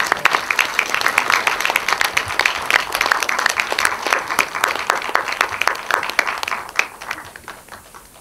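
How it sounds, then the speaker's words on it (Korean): An audience applauds steadily as the film director Ernesto Daranas is welcomed at a screening Q&A for the 2014 film Conducta, a dense run of clapping lasting about eight seconds that thins toward the end. "박수로 맞아주십시오."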